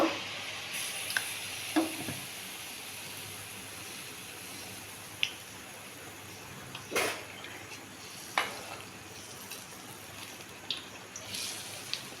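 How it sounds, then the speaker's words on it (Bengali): Mango malpua frying in hot oil, a quiet, steady sizzle with occasional sharp pops and crackles scattered through it, and brief spoon or utensil clicks near the pan. "আমি এইভাবে সব লাল লাল করে মালপোয়াগুলো ভেজে নেব"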